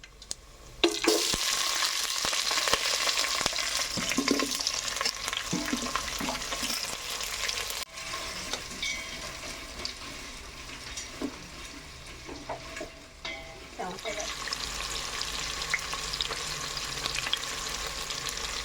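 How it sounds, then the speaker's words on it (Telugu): Chopped red onions frying in a pan for mushroom pulao, a steady, fairly close sizzle with occasional stirring scrapes running the whole way through. "ముందుగా తరిగి పెట్టుకున్న ఎర్రగడ్డలు అయితే వేసేస్తున్నా"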